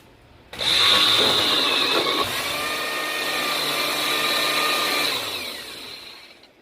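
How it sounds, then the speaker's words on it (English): A blender blending salsa ingredients whirs loudly for several seconds, starting abruptly, holding a steady high-pitched motor whine, then winding down at the end. "And I'm going to blend it up really nice."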